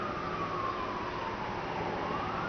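A siren from an ambulance or police car wails with a slow rising and falling pitch in a neighborhood, steady and moderately distant over a constant background rumble.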